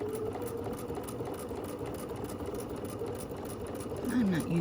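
A sewing machine stitches a double-sided contrast wristlet at 2.5 stitch length, a steady fast mechanical whir with rhythmic needle ticking that holds even throughout, with a low voice speaking over it.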